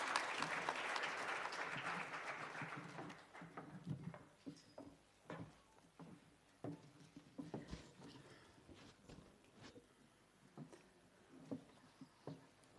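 Audience at a health workforce investment forum applauding a speaker, loud sustained clapping for about three seconds that thins into scattered, sparse claps and faint movement.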